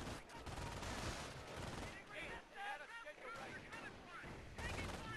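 Machine gun fire in a real-time strategy battle rattles in dense bursts through most of the stretch, with explosions and heavy gunfire mixed in and game speech over the top.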